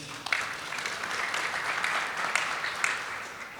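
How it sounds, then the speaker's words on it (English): Applause from an audience at a bank's digital product launch, a steady even wash of clapping from many hands at moderate distance, fairly faint, with no talking over it. "I would again say a big round of applause to Premier Bank for having this vision and bringing this to market"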